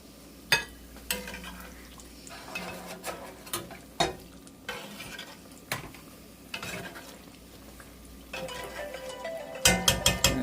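Apple cider donuts and donut holes frying in hot oil, a low steady sizzle broken by sharp clinks and scrapes of utensils against the pot.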